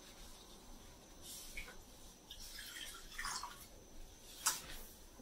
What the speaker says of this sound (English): If you have water in a container, we invite you to pour the water with us